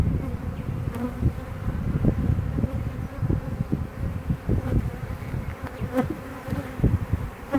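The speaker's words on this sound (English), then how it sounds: "they're fanning furiously down there now" Honeybees fan furiously inside a crowded hive being split, a loud, dense, continuous buzzing drone with individual bees zipping close past, no voices.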